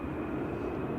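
Steady, broad engine roar of an airplane going around at Manchester Airport, a continuous low rumble heard from a distance with no talking.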